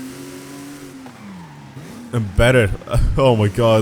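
A modernized legend race car in Forza Horizon 5, engine humming then dropping as brakes lock, followed by loud excited speech over the car noise.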